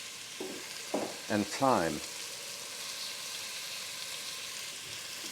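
Onion and bacon frying in a pot, stirred with a spurtle, give a steady broadband sizzle throughout, while a voice speaks briefly near the start over the cooking hiss.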